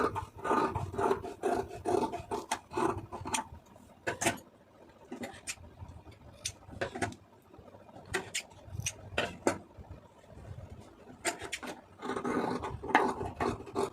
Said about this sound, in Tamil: இதை கையை கட் பண்ணிடுவோம்